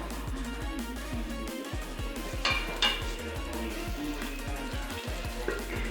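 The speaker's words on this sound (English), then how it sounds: "I put it in a hot pan for it to extract its oil and water." Cut pork cooking in a hot pan, rendering its fat and water, with a steady sizzle and repeated knocks and scrapes of a utensil against the pan close up.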